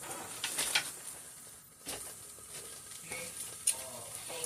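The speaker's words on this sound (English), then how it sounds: "now using the same pot, I'm going to go ahead and start to saute my onions and my green peppers" Onions and green peppers sautéing in a pot, a quiet, low sizzle with a few scrapes of stirring, heard faintly and without talk.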